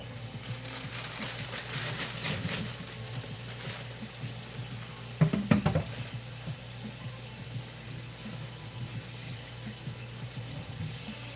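Grapes rinsed under a running kitchen tap, a constant low hiss of flowing water with a brief splash and clatter partway through.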